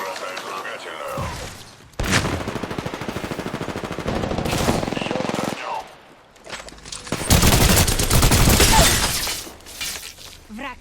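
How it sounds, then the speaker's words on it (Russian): Rapid automatic gunfire in a video game rattles out in two long loud bursts with breaking and shattering sounds, while someone talks over it. "Стреляю."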